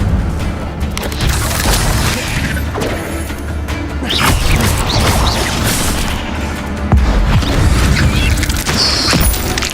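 Fire spell blasts in Hogwarts Legacy, loud booming and crashing impacts in dense bursts over a continuous rumble of combat noise, with no talking.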